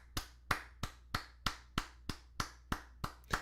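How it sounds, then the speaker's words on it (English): A single person's slow, evenly spaced hand claps, about ten sharp claps roughly a third of a second apart, close and fairly quiet with no talk. "Can I get an applause for that?"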